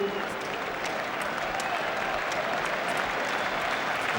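A football crowd at an Arsenal versus Manchester United match cheers and applauds in a sustained, dense roar that holds steady and loud for several seconds, with commentary voices faintly underneath.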